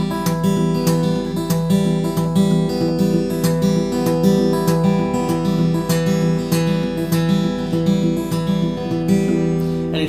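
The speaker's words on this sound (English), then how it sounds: "Now with palm muting, it sounds like this." Acoustic guitar played in a palm-muted Travis picking pattern, alternating bass notes under picked treble strings in a steady, even rhythm, close and moderately loud, with no talking.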